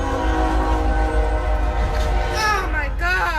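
An oncoming train at a level crossing rumbles loudly and steadily with a sustained tonal horn, and excited voices break in near the end.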